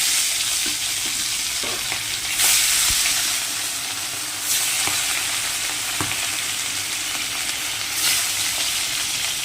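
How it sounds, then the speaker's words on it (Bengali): Loud, continuous sizzling of rohu fish frying in hot oil, swelling into bursts of crackle now and then, with a few light clinks. "দেখো মাছ ভাজা হয়ে গেছে আমার।"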